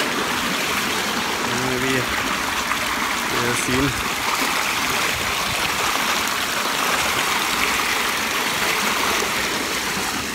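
Cold water flows continuously outdoors in pleasant weather, a steady rushing trickle like a stream. A person speaks briefly over it partway through.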